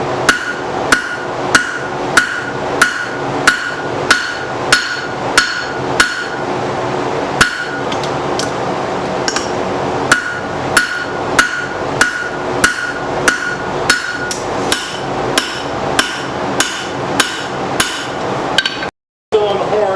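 Steel hook stock is hammered on the horn of an anvil during forging, a loud, even run of sharp ringing strikes about once a second, with a short gap near the end.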